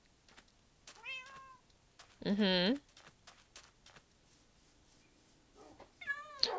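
A Minecraft cat meows several times, the loudest a long drawn-out mew mid-clip and another near the end, between brief quiet spoken remarks.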